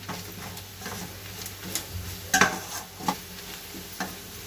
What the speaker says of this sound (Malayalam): ഇത് നന്നായിട്ട് മിക്സ് ചെയ്തിട്ട് ഇതിൻ്റെ ഒരു പച്ചമണം പോണ വരെ നമ്മൾ വെയിറ്റ് ചെയ്യണം